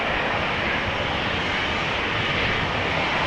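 Transavia airliner at Amsterdam Schiphol Airport, registration PH-HXC, bound for Pisa: a steady, broad engine roar that holds loud and even for the whole stretch, with no voices over it.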